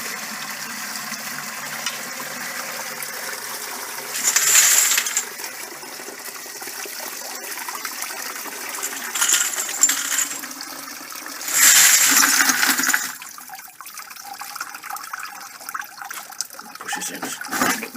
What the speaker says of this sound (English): by turning the lever here, just doing this, going down, I can actually pour out some of the water.